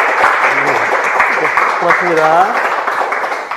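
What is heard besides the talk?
applause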